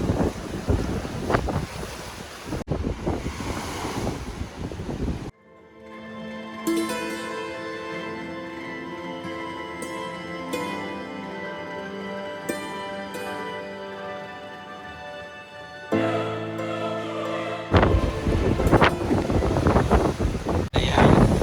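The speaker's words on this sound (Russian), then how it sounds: "Вообще ветер задувает так, что не слышно друг друга." Strong wind buffets the microphone while ocean surf crashes on the rocky coast at Los Gigantes, Tenerife, loud and roaring at the start and end, with a quieter musical stretch in the middle.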